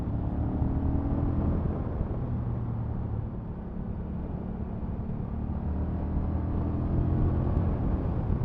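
A 2023 Honda CMX 1100 DCT motorcycle climbs a hill in third gear, its engine a steady, loud, low drone mixed with rushing wind, holding on without a break.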